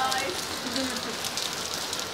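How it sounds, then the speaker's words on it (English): Rain hisses steadily on a surface, with a faint voice murmuring underneath. "rain"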